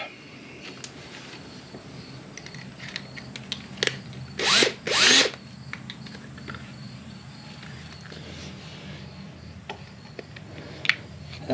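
Power drill boring a hole into a part of a Yamaha DT2 motorcycle, two short loud whirring bursts close by over a quiet workshop background, with a few faint clicks after and no talking.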